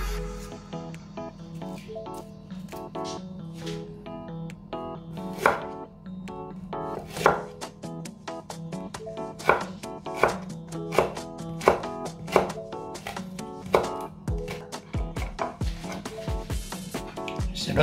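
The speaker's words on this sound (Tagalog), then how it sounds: "Babalat muna tayo ng luya." Ginger is peeled and cut with a knife, a close run of crisp chopping taps that speeds into a regular rhythm on a board, with no talking.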